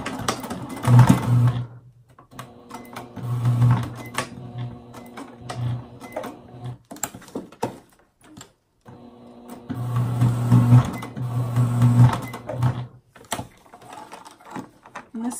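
A domestic sewing machine sews a box stitch through a fabric ID badge holder, whirring in several steady bursts separated by short pauses, close and fairly loud.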